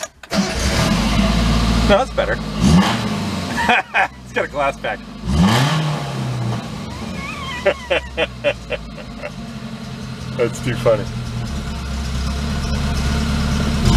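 A cheap Chinese truck's engine cranks, catches and revs in bursts, then settles into a steady idle, close and loud, with people talking over it.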